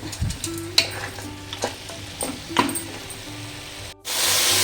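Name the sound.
mutton frying and stirring in tempering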